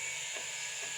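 Screws being tightened to mount a hard drive inside a Hikvision NVR, a short, quiet mechanical ratcheting click over a steady background hiss.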